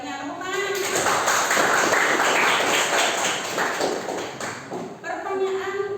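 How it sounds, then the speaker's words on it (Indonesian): Classroom applause, a steady dense patter of many hands clapping at close range that lasts several seconds before tapering off. "Tepuk tangan."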